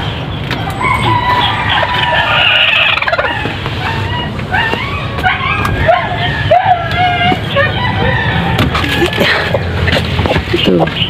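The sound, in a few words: chickens clucking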